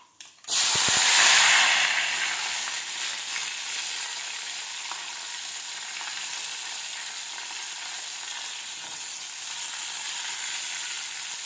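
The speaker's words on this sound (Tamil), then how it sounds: "நம்ம எடுத்து வச்சுருக்க வெங்காயம், பூண்டையும் இதில் ஒன்றா சேர்த்துடலாம்." Onion and garlic tipped into hot oil with popped mustard seeds erupt in a loud, bright sizzle after a brief clatter, then settle into a steady, close frying hiss for the rest, with no talk.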